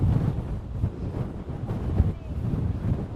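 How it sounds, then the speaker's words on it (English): Strong gusts of wind buffet the camera microphone outdoors on the Greek island of Naxos, producing a steady low rumble with surging, uneven pulses throughout. "My camera's trying to escape from me. It's so windy."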